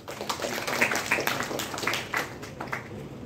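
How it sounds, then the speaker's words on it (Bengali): A small audience at a literary exchange event in Dhaka applauds, uneven clapping with distinct individual hand strikes that rises and then tapers off. "আমরা একটু করতালি আশা করছি।"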